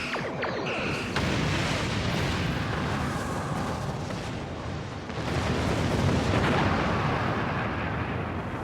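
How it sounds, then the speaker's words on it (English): Artillery cruisers fire heavy weapons during a space battle in the Star Trek Online video game, a dense, continuous barrage of loud booms and rumbling blasts that barely lets up, with no one talking. "Gotta take down these artillery cruisers because they are what are tearing us apart."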